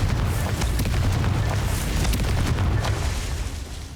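Confringo fire spell blasting in Hogwarts Legacy, a dense, loud rumbling boom with crackling bursts sustained for about four seconds before easing slightly.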